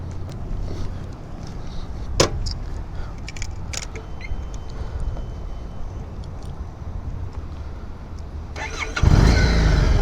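A 2018 Harley-Davidson Street 500 motorcycle fires up near the end with a sudden loud low rumble, following a stretch of quiet background noise and a brief sharp click.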